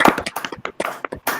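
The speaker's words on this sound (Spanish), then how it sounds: "le diéramos un merecido aplauso al magistrado Armando Maitret" A small audience gives applause to a magistrate after his talk: a handful of close, separate hand claps, uneven and sparse rather than a full ovation, over barely one and a half seconds.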